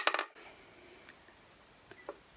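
Dice roll for a Bookopoly board game, giving a short rattling clatter at the start, then quiet, with a couple of small clicks near the end. No talking.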